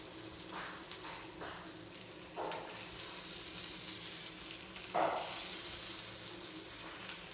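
Stuffed brinjals drop one at a time into leftover hot oil in a kadai, each bringing a soft burst of sizzling crackle over a quiet, continuous frying hiss.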